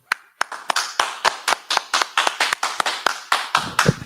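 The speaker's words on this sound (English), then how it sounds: "so clap it up" Audience clapping in unison at a religious history class: a steady series of sharp, evenly spaced claps, about two per second, loud and close with no talk over them.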